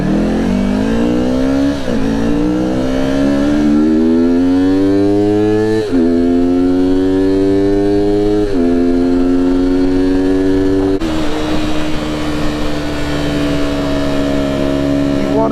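A supersport motorcycle accelerating hard on throttle, its loud engine climbing in pitch through several gear changes with short dips between shifts, close and continuous.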